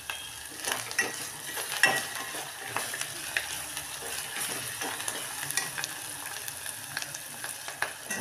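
Spice paste (vatan) frying in a pan for masale bhat, a steady moderate sizzle with repeated scraping stirs and light clinks of the utensil against the pan.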